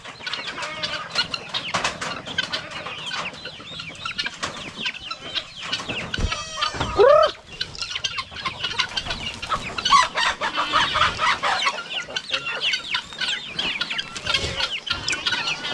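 Farmyard chickens cluck steadily with a rooster's brief crow partway through, set against outdoor ambience and no clear talk.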